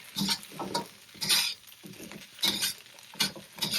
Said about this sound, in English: Add in our Brussels sprouts. And very quickly stir everything together.